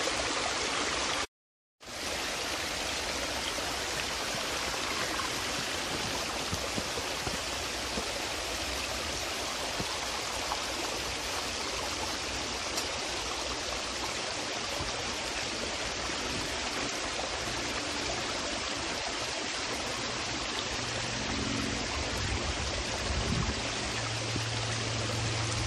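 Mountain spring water runs downhill in a stream on Monte Loatzo, a steady, close, full rushing and burbling that continues almost unbroken after a brief cut near the start, with no talk.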